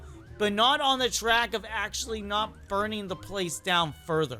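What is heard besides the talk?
ambulance siren in Roblox Brookhaven RP video game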